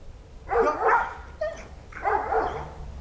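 Dog barks at a dog training center in Saigon, with two loud, close bursts of barking roughly a second and a half apart, each made of several rapid yaps.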